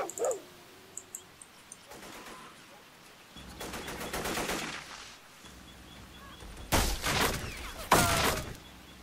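Heavy machine gun fire in the Vietnam war game Men of War: Vietnam, arriving as a few loud, close bursts in the second half among scattered clicks and smaller distant shots, with no talking.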